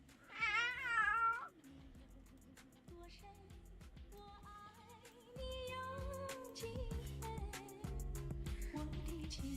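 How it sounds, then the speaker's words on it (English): A cat meows loudly and close at the start, then keeps up softer, drawn-out meows and chirps over a quiet room background. "Yeah, that's a cat."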